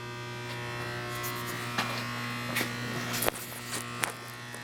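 A Leblond 15-inch by 54-inch servo shift lathe turns its spindle slowly at about 45 RPM, giving off a steady electric buzz and hum, with a few brief clicks and knocks scattered over it.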